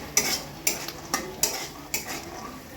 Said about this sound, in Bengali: বাদামটা ডাল দিয়ে খাওয়ার জন্য ভাজছি আস্তে আস্তে